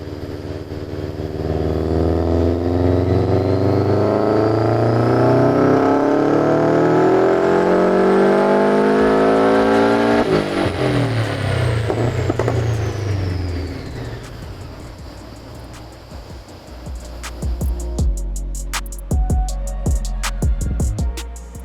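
A Subaru STI strapped to a dyno wails through a long, loud pull, the engine note climbing steadily for ten seconds before it lets off, and the revs wind down and pop and crackle near the end.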